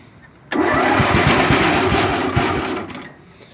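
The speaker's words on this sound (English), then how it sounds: "So let's see if it will fire up, and we can see that fan spinning." A Massey Ferguson 8 Hydro garden tractor engine cranks and catches after a moment of quiet, running loud and close with a rapid chugging beat for about two and a half seconds before cutting off.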